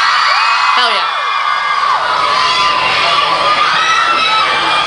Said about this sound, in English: give yourself a round of applause for coming out to Bamboozle